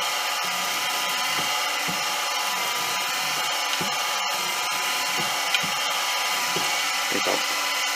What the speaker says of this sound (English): Use peck drilling to clear the chips out.